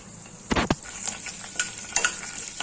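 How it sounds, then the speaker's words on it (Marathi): Mustard seeds, urad dal and curry leaves sauté in hot oil with a soft sizzle, broken by a few sharp stirring knocks and clinks of a spoon against the pan near the start and later on. "डाळ आणि कढीपत्ता, मोहरी चांगली परतलेली गेली आहे"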